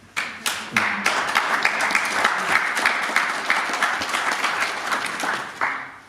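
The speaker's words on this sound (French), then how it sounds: "On va dire Madame Auberlet, on pourrait peut-être applaudir quand même les agents qui ont fait cette collecte." Attendees at a community council meeting in the Pays de Saverne applaud. The clapping starts with a few scattered claps and builds into steady, moderately loud applause from a small room, then tails off near the end.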